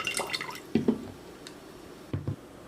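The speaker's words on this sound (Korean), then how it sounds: "이 자카르타 3리터짜리 펌프 물통은 이렇게 꾹 누르기만 하면 물이 졸졸졸 나와요" Water trickling from a 3-litre pump water jug pressed by hand, short soft pours and drips in a few brief bursts, close and fairly quiet.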